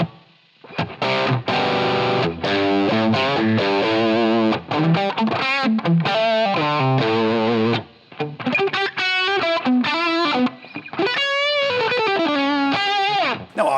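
Distorted electric guitar through a Line 6 Helix-style modeler playing a melodic riff with a washy reverb tail, loud and close, with brief pauses between phrases.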